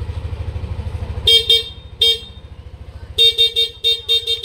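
A Yamaha NMAX v2 scooter idles with a steady low putter while its stock horn beeps in short, bright toots, first a few single blasts, then a quick run of repeated honks.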